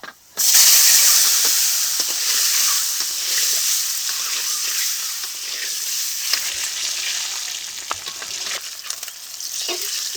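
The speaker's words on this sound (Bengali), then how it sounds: "এই তেলে দিয়ে দেবো সামান্য লবণ ও হলুদ এখন ডিমগুলো ভেজে নেব" Duck eggs fry in a pan of hot oil seasoned with salt and turmeric, a loud steady sizzle with occasional spatula scrapes and pops, close and without talk.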